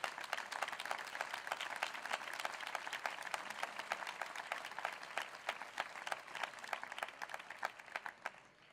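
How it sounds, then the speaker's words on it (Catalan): Dense, steady applause from a large crowd at a political rally in Badalona, continuous sharp claps filling the space at moderate distance, with no speech over it. "Permeteu-me un aplaudiment també per a aquesta gent, la gent del procés constituent."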